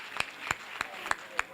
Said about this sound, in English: Let us clap for our future not to be disturbed by anything.